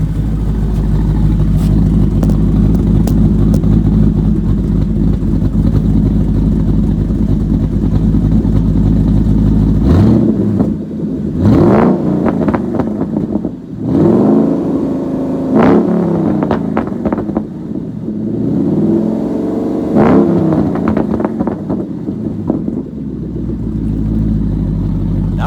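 Ford Mustang Boss 302 with an MRT H-pipe exhaust, heard close up at a steady idle and then blipped in a series of sharp, loud revs to about 4,000 RPM, each one rising and falling back to idle.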